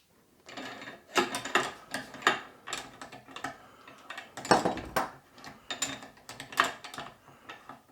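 Metal wrench working on a 6.5 Creedmoor rifle barrel to break it free of the action, a run of close clanks, ratchety ticks and scraping bursts in uneven rhythm, with no speech.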